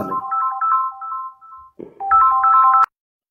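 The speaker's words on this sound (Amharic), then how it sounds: "ይቅርታ ስልክ ገብቶብኝ ነው።" A phone's electronic ringtone plays a short melodic phrase, pauses briefly, then repeats before cutting off abruptly.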